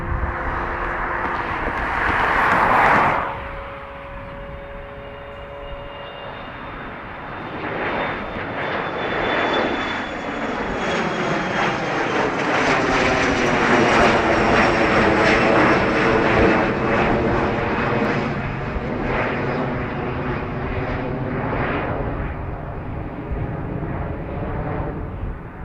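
A twin-turboprop ATR airliner at Dublin Airport roars loudly and steadily close by, its engine drone rising and sweeping in pitch as it moves, filling the whole stretch with no talk.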